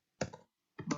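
Someone types on a computer keyboard in two short bursts of quick, close key clicks with a brief pause between them. The clicks are moderately quiet and there is no talk.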